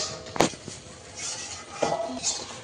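A metal pot lid is lifted off a pot of cooking shrimp. It makes two clear metallic clanks and clinks a second or so apart, with quieter rattling between them.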